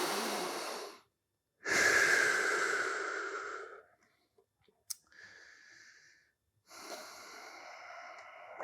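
Deep, slow breaths drawn in and pushed out during a couch stretch for the hip flexors: a long loud inhale, a softer airy exhale and another heavy breath, close and alone with short pauses between.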